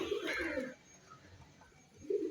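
An old pigeon coos softly nearby, low throaty bursts at the start and again at the end with a quiet pause between.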